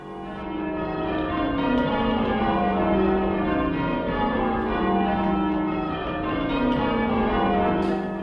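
Church tower bells rung by hand with ropes ring in a steady, overlapping sequence, a full rich peal sounding continuously and fairly close.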